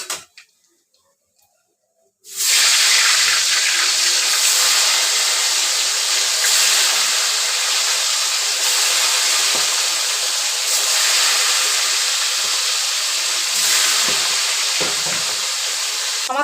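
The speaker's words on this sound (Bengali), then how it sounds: "এবার বাকি মাছগুলো ভেজে নেব।" Fish fries in a pan of hot oil with a loud, steady sizzle and hiss that starts abruptly after a brief silence and holds evenly, close up, with occasional stirring.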